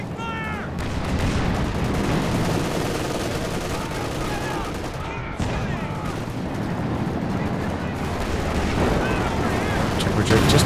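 Priest self-propelled artillery firing in a Company of Heroes 2 battle, a continuous dense roar of gunfire and explosions throughout, loud and busy, with a voice talking over it.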